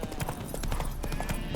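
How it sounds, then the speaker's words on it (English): Roach, Geralt's horse in The Witcher 3: Wild Hunt Hearts of Stone, clops along with a quick, uneven run of hoofbeats at moderate distance; any whinny stays faint under the steps. "Spooking my horse."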